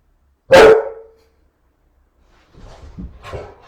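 A dog gives one sharp, loud bark during a quiet meditation, and after a long silence soft rustling and low movement noises follow.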